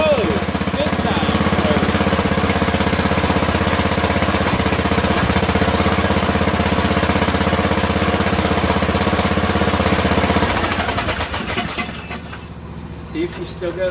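An old lawn and garden tractor engine, in very poor condition with a starter that had been seized, runs with a loud, steady rough chugging for about ten seconds close by, then changes pitch and falters near the end.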